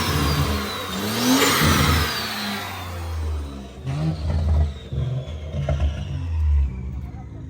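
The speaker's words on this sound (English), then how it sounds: "This is a S4 with a upgraded turbo." Turbocharged Audi S4 engine with an upgraded turbo revving nearby, rising and falling pulls with a whirring spool, mixed with some voices in the background.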